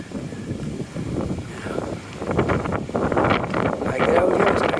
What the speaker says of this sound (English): I don't want you to have to endure the wind blowing in your ear